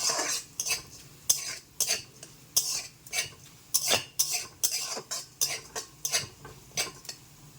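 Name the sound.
red lentils being fried and stirred in a pan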